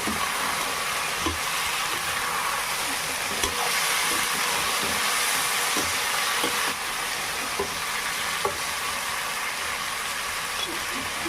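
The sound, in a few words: pumpkin (komda) frying with onions in a pan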